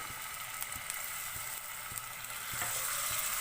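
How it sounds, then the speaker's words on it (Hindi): Garlic ginger paste fries in hot oil in a pan, giving a steady close sizzle with light stirring taps at irregular intervals and no voices. "लहसुन अदरक को मैंने ऑयल में फ्राई कर लिया है।"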